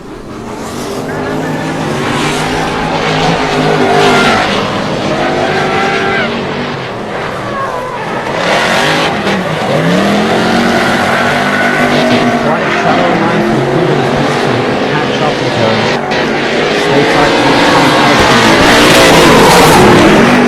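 Drift cars revving and sliding through a competition run at the Drift Kings Superfinal in Cyprus, a steady loud engine roar with tire squeal throughout and commentary over the top.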